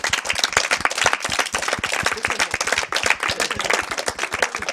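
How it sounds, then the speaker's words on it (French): A small group of charity volunteers clapping for themselves at close range, with sharp, rapid, uneven hand claps packed densely over several seconds and no voices heard. "Bravo. Applaudissez-vous."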